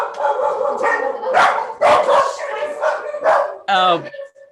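Several dogs bark in short bursts over ongoing conversation, with a higher yip or whimper near the end, the barking fairly close and moderately loud beneath the voices.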